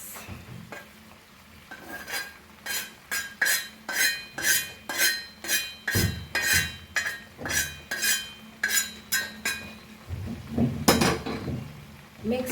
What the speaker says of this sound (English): Mix this all nicely.